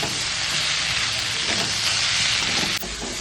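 Flat beans (shim) sizzling and frying in a pan while being stirred, a steady loud hiss with soft scraping throughout and a brief clatter near the end, no voices.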